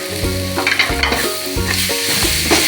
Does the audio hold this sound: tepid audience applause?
no